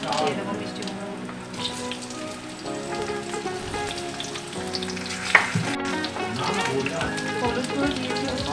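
Sweet pumpkin pieces sizzle steadily in hot oil in a pan for a fish-and-pumpkin dish, the crackle constant and close, with a brief clatter partway through.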